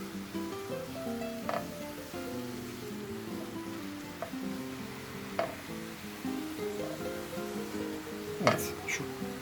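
Fresh dill sizzling and being stirred in a frying pan for a herb omelette, a soft steady crackle with occasional scraping stirs and light utensil knocks.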